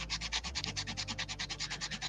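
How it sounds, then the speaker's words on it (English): Rapid back-and-forth sanding strokes on action figure parts laid flat on a workstation, a steady rhythmic rasp of about eight strokes per second, close and continuous with no talk. "just put it flat on my workstation and just sand them smooth, sand them shorter, both ways"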